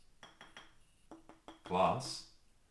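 A glass jar is handled in a kitchen, giving a few light clinks and taps followed by a louder scraping knock and rattle, close by and alone.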